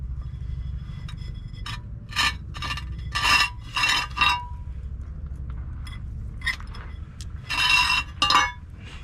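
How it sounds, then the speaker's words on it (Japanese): Bonsai wire is twisted and fastened while repotting, producing bursts of metallic scraping and rasping with small clinks, close and crisp, separated by quiet pauses. "この針金を止める作業"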